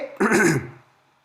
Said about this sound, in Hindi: थोड़ी खांसी हो गई है मुझे, तबीयत ठीक नहीं है